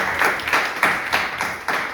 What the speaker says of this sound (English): So if we could just clap it up for Nia Williams as well.